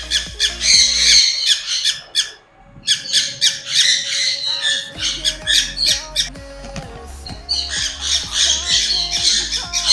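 Sun conure parrots give a rapid series of loud, harsh squawks, close by and overlapping. A brief lull comes before the shrill calls resume repeatedly.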